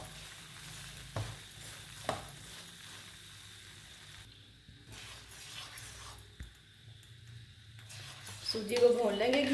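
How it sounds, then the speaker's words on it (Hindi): Semolina roasting and being stirred in ghee for a jaggery halwa, with soft sizzling and scraping strokes under steady talk, growing louder and busier toward the end. "सूजी को भून लेंगे घी के साथ"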